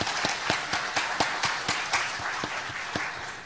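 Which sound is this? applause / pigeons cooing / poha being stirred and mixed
applause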